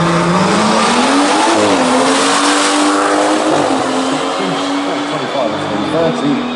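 A tuned BMW 140i makes a drag strip run, a loud sustained engine drone rising and shifting in pitch, with a commentator talking over it throughout.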